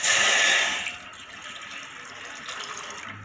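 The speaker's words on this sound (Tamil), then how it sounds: "தண்ணி ஊற்றிக்கலாம்." Water pours into a bowl set on a lit stove while sago pudding is being made: a loud, splashing rush for about a second, then a softer, steady trickle and gurgle until the end.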